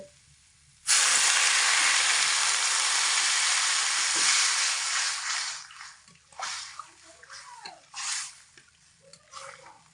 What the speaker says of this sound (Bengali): তো কচুর মধ্যে পরিমাণ মতো উষ্ণ গরম জল দিয়ে দিলাম।